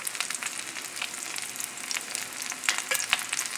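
Haddock fillets sizzle steadily in a hot pan, a close, continuous crackle of frying with small pops and bursts of spitting throughout.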